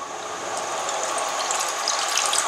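Milk and water pour in a steady stream into a container for homemade bread pudding, making a continuous close splashing, filling sound for a couple of seconds with no talking.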